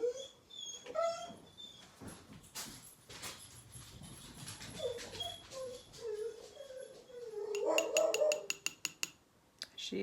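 A dog barks and yips at another small dog outside, with sharp, repeated bursts, a quick rapid series near the end, and someone talking over parts of it in a domestic setting.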